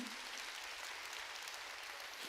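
Church congregation applauding during a sermon, a soft, steady patter of many hands clapping at a distance, with no voice over it.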